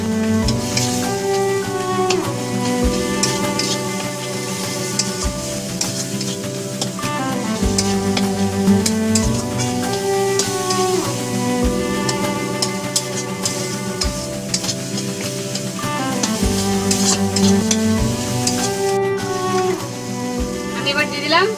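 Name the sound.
spice paste frying in a pan for rui fish curry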